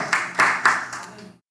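A church congregation claps together for several seconds in loud, bunched bursts of hand claps that fade out at the end, with voices mixed in.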